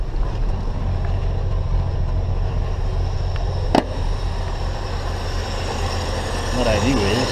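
Chevy II car engine idling steadily just after starting, with the automatic choke running a little rich on a warm day; a continuous low rumble with one brief sharp click partway through.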